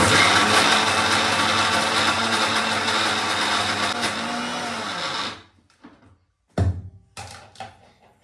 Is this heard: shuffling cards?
no